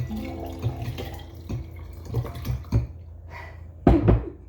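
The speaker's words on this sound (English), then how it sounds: "we're just gonna go ahead and pour it in" Sangria with chopped fruit poured from a pitcher into a glass, giving a short run of liquid splashing with soft clinks and drips, ending in a louder splash.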